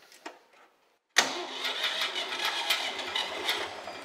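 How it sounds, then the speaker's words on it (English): A Ford 3-cylinder tractor engine, from the 2000, 3000 or 4000 series, starts up after a brief cranking sound and a moment of silence, then catches and settles into a loud, steady running rumble. "when we start the tractor"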